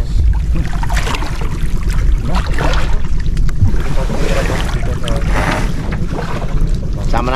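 A boat's engine rumbles steadily on a river while wind buffets the microphone, with a constant low drone throughout and no voices.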